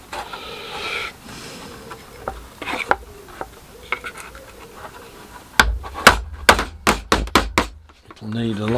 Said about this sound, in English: I take a big hammer and put that on there and push it in